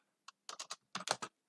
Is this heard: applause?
no